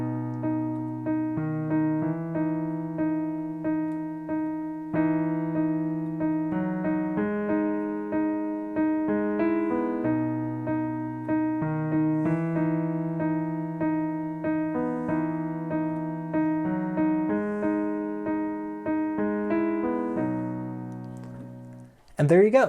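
Piano playing the intro of a song, steady chords and melody up to tempo, clear and close with sustained notes, no talking over it.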